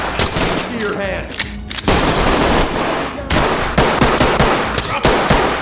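Repeated heavy gunfire from a shotgun in the tactical shooter video game Ready Or Not, loud, close blasts in an irregular burst over a steady, dense background, with shouted commands in between.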